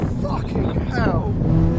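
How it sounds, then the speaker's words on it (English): Turbo wastegate of a tuned car chattering and fluttering in short bursts, fairly close, as the engine comes off throttle, with an excited voice talking over it. "That fucking wastegate sound, dude."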